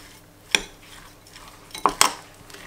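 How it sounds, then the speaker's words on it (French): Strawberry tartare being stirred in a bowl, with a few sharp utensil clinks and scrapes against the bowl, the loudest near the end, between quiet pauses. "Donc là, je vais mélanger le tartare. Donc je mélange."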